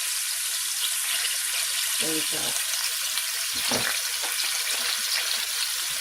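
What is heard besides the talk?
onions and garlic frying in pan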